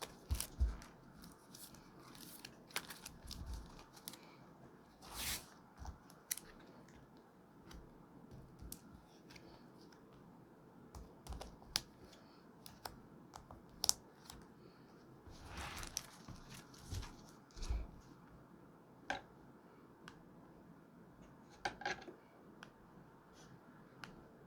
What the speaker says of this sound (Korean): 카드 섞어보겠습니다